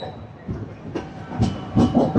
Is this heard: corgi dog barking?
no